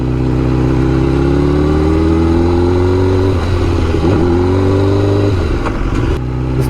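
A motorcycle engine revs steadily up and down while the rider takes a slow warm-up ride, with a loud, close drone that rises in pitch and dips with throttle changes.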